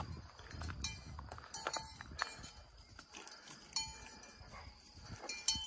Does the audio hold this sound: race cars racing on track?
no